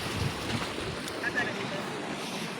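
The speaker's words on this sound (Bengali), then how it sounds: "দেখুন কত বড় বড় ঢেউ" Big sea waves surge and wash against the shore where people fish with rods, a steady broadband roar mixed with wind buffeting the microphone, continuous and fairly close throughout.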